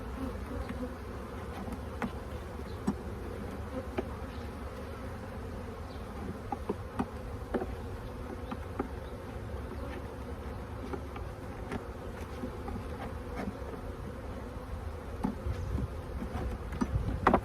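Honeybee foragers buzz steadily around a hive at the start of the season, a dense, continuous drone of many bees close by with occasional louder individual passes and no talking.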